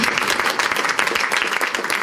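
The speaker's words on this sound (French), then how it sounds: "On peut l'applaudir, merci." An audience breaks into dense, loud applause, many hands clapping close together in a continuous burst that holds steady for a couple of seconds.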